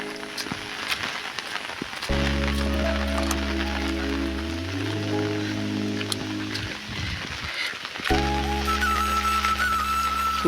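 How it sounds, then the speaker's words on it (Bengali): Heavy rain pours down during a windy storm, a dense steady hiss with loud droning, whistle-like tones rising over it for several seconds in the middle and again near the end. "বৃষ্টি খুব জোরে মুষলধারা বৃষ্টি পড়তেছে এখন।"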